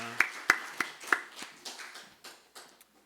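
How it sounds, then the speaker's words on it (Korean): A small church congregation claps during a Sunday morning worship service, about ten distinct hand claps in an uneven, slowing rhythm that fade toward the end, fairly quiet and close. "하나님께 영광의 박수 올려드리겠습니다"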